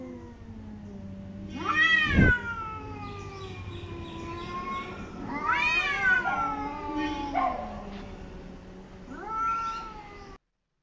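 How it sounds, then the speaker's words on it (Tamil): Two cats, one black and one white, fight outside a window, trading long, rising and falling yowls and caterwauls at close range, with a sharp thump partway through and a final drawn-out wail before it cuts off. "ஜன்னலுக்கு வெளியில் இந்த சேட்டை நடந்துட்டுருக்கு. 2 பூனைகள் சேட்டையை பாருங்கள்."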